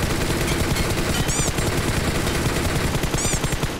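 Rapid automatic gunfire in the mobile shooter game PUBG Mobile rattles in dense, continuous bursts, loud and close, with a couple of brief whistling effects layered over the shots.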